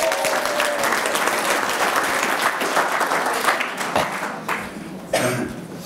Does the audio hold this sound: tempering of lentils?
no